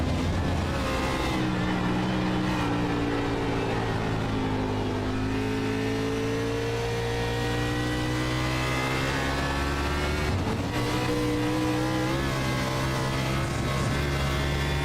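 A stock car engine howls continuously at high revs on the Watkins Glen road course, pitch sweeping down and up through gear changes, loud and close throughout.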